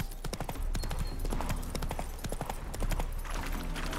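Horse hooves clip-clopping at a steady walking pace in The Witcher 3, the sharp, even hoofbeats close and loud, with no talking.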